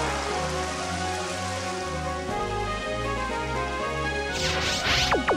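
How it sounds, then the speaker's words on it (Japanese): Heavy rain falls during a Pokémon Stadium Gold and Silver Nintendo Cup battle. A steady hiss of rain runs under loud looping game music, and sharp whooshing effects appear near the end. "あーっと、大雨になりました。"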